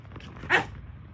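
A single short dog bark or snort sounds close by amid soft background noise in a village setting in Gujarat, with no one talking.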